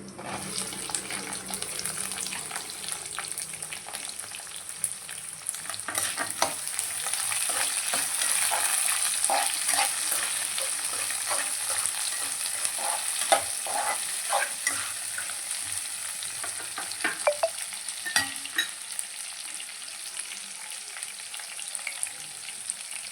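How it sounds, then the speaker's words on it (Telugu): Onions being added to hot oil in a pan for a spinach and onion dish: a steady, loud sizzle and crackle running throughout, with scraping and stirring clatter over it and no voices. "వేగాక ఉల్లిగడ్డ వేసుకోవాలన్నమాట"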